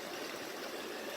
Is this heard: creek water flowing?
yes